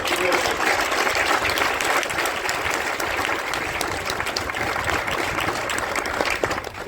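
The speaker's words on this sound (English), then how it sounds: "One more round of applause" Sustained applause from a crowd at a Marine battalion change of command ceremony honouring Marines and sailors, dense steady clapping throughout with a voice briefly audible over it.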